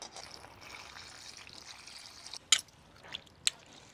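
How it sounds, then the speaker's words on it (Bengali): Water pours and trickles over cut cauliflower being rinsed in a kitchen, a soft continuous splash with a few sharper splashes and drips toward the end. "আবার একটু জল দিয়ে আর এক ধোয়া দিয়ে দেব।"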